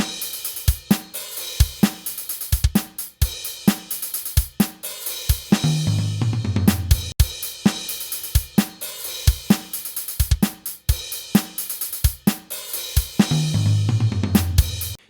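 A programmed sampled drum kit plays a steady groove with sharp, clipped hits whose tails are cut off by following strikes, loud and dry, with occasional low tom fills rolling downward; no talking.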